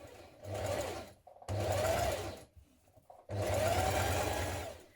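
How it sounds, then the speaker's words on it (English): A sewing machine topstitches a seam on a knit dress in three distinct bursts separated by brief pauses, heard close and clear. "Now press your seam towards the front and top stitch."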